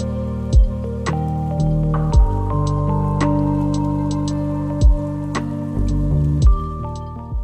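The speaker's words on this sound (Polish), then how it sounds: "Ze stropu spływają strumyki wody, pozostałość po wczorajszej ulewie." Water drips steadily from a cave ceiling after a downpour, falling as sharp drops at irregular intervals of about a second, close by and ringing out over a constant low background hum in a sunlit grotto near Phetchaburi.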